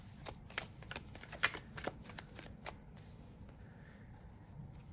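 Tarot cards are shuffled by hand in a run of quick riffling flicks and taps, close and fairly soft, over a low room hum.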